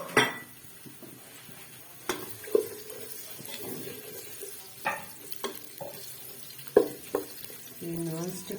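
Chopped onions dropped into hot ghee in a nonstick pot for a turnip curry, sizzling softly while a spoon stirs and clinks against the pan in scattered knocks, with a voice talking now and then.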